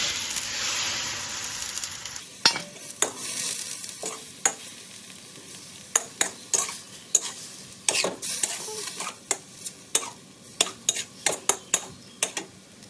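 Squid and water from rinsing a mortar go into a hot pan of spicy Thai seafood stir-fry, with a hiss of sizzling at first, then a series of sharp metallic spatula scrapes and clacks against the pan, up close with no voices.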